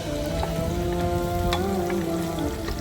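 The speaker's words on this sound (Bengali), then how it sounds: "আলুগুলাকে আবারও গরম মশলা ও পেঁয়াজের সাথে হালকা ভেজে নেব।" Potatoes frying lightly with garam masala and onions in a pan for pressure-cooker chicken biryani, a steady close sizzle of hot oil continuing throughout without talk.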